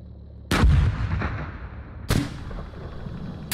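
Two heavy tank cannon blasts in the PC tank simulator Gunner HEAT, about a second and a half apart, each a loud sharp boom followed by a rolling rumble that trails off into low battlefield noise.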